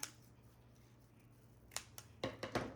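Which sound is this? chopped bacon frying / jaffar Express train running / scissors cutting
scissors cutting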